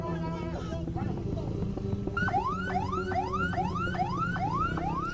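An ambulance siren on a crowded street in Senen, Jakarta, starts partway through and repeats a fast rising-and-falling wail over busy traffic noise.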